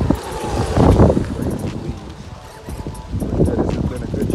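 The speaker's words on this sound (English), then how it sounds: "It is windy as heck, guys." Strong wind buffets the microphone outdoors in heavy, surging gusts, loudest near the start and again toward the end, with a brief lull in between.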